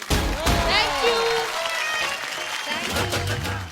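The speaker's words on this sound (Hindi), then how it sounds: "ਤੁਹਾਨੂੰ ਵੀ तो एक बार जोरदार तालियां भावना और श्वेता के लिए और अंकल के लिए भी" Audience applause at a stage event, a burst of clapping that rises and fades under overlapping voices and music.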